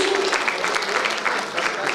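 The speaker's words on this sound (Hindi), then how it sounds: "जोरदार तालियां बजाइए प्लीज" Loud, dense applause fills a hall at an open mic event during a literary festival, a brief unbroken burst of many hands clapping at once.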